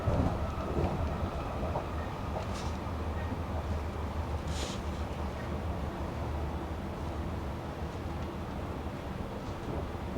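Steady low rumble of a passenger train rolling along the rails, heard from inside a carriage as a continuous dense drone with faint high squeals, no talking over it.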